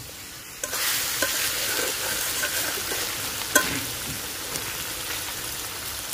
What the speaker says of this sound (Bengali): মাংসটা ভালোভাবে কষাই নেব মশলা দিয়ে।